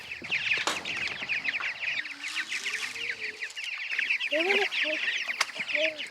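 Chickens in a chicken tractor cluck and chatter steadily, with a dense layer of small bird calls throughout and a few louder clucks near the end.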